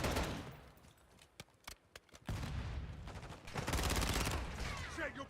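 Gunfire in a first-person shooter video game: a few sharp isolated shots, then sustained bursts of rapid automatic fire with heavy noise, moderately loud amid battle ambience.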